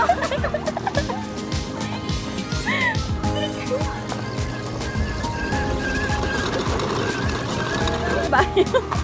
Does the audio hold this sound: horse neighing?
yes